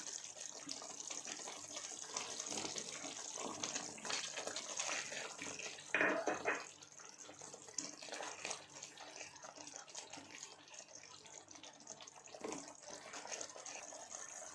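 Capsicum masala curry simmering in a pan, a steady bubbling and sizzling hiss that runs throughout with a brief louder clatter near the middle, no voices.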